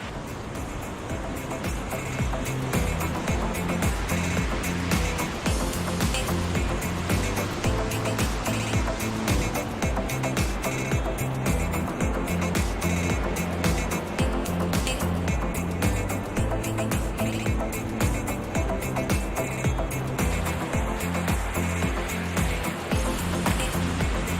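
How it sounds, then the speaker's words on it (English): Rushing water roars loud and unbroken near a mountain hiking viewpoint around Vail, a dense, steady churning torrent that fills the whole stretch without pause. "Just listen to that water roar."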